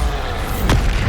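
A Bombarda blasting spell explodes in Hogwarts Legacy, a single deep boom with a sharp burst partway through, loud and alone, with a rumbling low tail.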